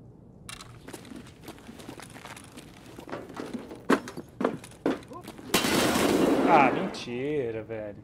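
Gunshots in the shooter game Escape from Tarkov ring out as a string of sharp, separate cracks, followed by a louder burst of noisy action, while players talk over the top.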